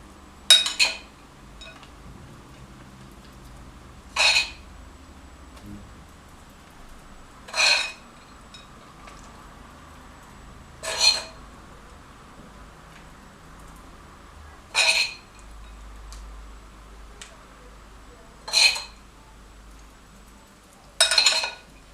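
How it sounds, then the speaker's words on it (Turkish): Crushed walnuts scattered over milk-soaked güllaç sheets in a Turkish home kitchen, heard as seven short, evenly spaced clinks and rattles about every three and a half seconds against a quiet background. "5. kattan sonra cevizlerimizi döküyoruz."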